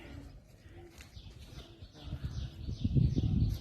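Pigeons coo and flutter nearby amid a busy outdoor crowd murmur at a pigeon-flying competition in Dumna village, Ropar, Punjab, the bird sounds soft and intermittent.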